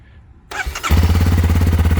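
A 2021 Kawasaki KLX230R fuel-injected motorcycle engine, stone cold, whirs briefly on the starter, then catches and settles into a steady, loud, close idle with an even pulsing beat.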